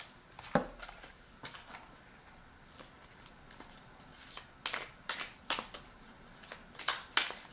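A tarot deck is shuffled close up in a series of crisp, riffling card bursts, one sharp flurry early and then repeated quick clusters that grow busier toward the end.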